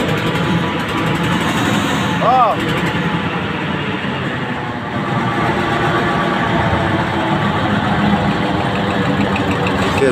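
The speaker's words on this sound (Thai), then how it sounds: "เร่งเครื่องเลย" The engine of a small six-wheel Thai farm dump truck runs steadily up close, its rough mechanical drone rising as it is revved, with brief voices heard over it.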